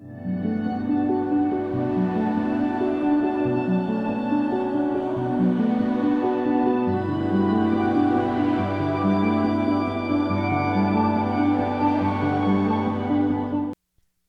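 A cinematic music track plays dry with no effects, holding sustained harmonic chords over a repeating rhythmic low pattern, loud and continuous for about fourteen seconds before stopping abruptly.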